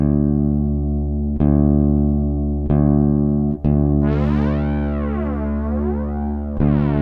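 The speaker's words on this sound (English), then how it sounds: "Kind of a subtle distortion here with the dry bass sound, no cabinet simulation." A sustained electric bass note with a light gritty edge from a Ghost pedal's subtle distortion, dry with no cabinet simulation, restruck a few times, later swept by a wavering filter that rises and falls.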